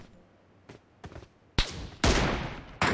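Gunfire in the mobile battle-royale game PUBG Mobile: a couple of faint distant shots, then three loud close bursts of rapid fire in quick succession.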